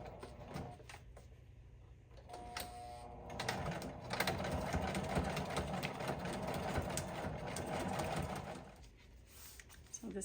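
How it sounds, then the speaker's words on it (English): Sewing machine stitching across the bottom of a junk journal page to form two pockets, a steady mechanical whirring run that rises after a short start, close and moderately loud. "now I'm going to sew across the bottom, and this will form two little pockets at the top"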